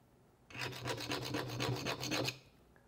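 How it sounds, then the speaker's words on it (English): Something is scraped hard across a laminate flooring sample in a scratch test, giving a quick run of about a dozen rapid, rhythmic rasping strokes lasting under two seconds, close and alone in otherwise quiet surroundings. "we're gonna scratch it and let's see if we get any scratches"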